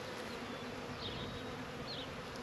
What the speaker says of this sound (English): I could hear bees in the air.